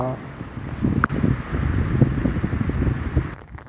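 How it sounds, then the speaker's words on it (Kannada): Gusty wind roars steadily over an open plantation, with rain and rustling mixed in and a brief sharp knock partway through. "ನೋಡಿ ಯಾವ ಥರ ಗಾಳಿ ಮಳೆ ಬೀಳ್ತಾ ಇದೆ ಅಂತ."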